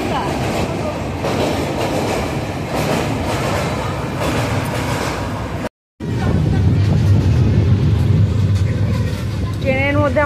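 Steady rumble and rhythmic rattling fill the carriage of the Puri Duronto Express running from Sealdah to Puri, loud and continuous with a brief dropout midway, with voices talking over it.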